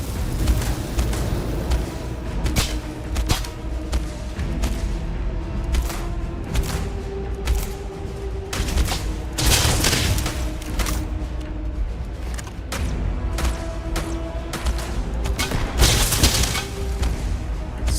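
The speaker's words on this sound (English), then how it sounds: "The megawatt cannon." Heavy energy weapon fire in the space game Starfield, a megawatt cannon blasting repeatedly in loud booming bursts over a dense, continuous rumble of combat noise, with no speech.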